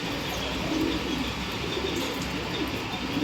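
Pigeons in a loft in Bangalore coo in low, continuous, overlapping murmurs, with faint chirps above a steady ambient hum.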